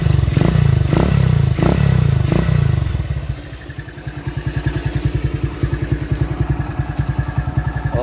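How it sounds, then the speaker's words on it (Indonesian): Exhaust of a 2004 Honda CB Mega Pro motorcycle: a few loud revs and thumps at first, then a steady, rapid, pulsing idle putter up close, with no talking. "Ini suara nalpotnya."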